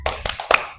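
Children in a classroom perform a 'tepuk semangat' clapping routine, a quick rhythmic series of sharp claps in short bursts, close and bright, with a brief chanted voice among them.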